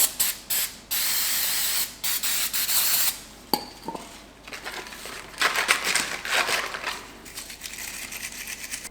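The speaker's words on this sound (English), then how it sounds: "just grab yourself some brake cleaner" Brake cleaner sprays in several short hissing bursts and a longer blast onto corroded power steering line fittings of a Grand Caravan, followed by scattered metallic clinks and handling noises, all fairly quiet.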